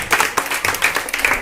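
Children clap together in a room at a Qurbani quiz, a brisk burst of scattered hand claps, near and fairly loud, with no talk over it.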